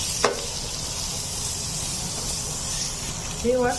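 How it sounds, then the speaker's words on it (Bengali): Potatoes frying in a pan give off a steady, even hiss, with a sharp clink near the start and a brief voice near the end. "এখন আমি আলুগুলো একটু ভেজে"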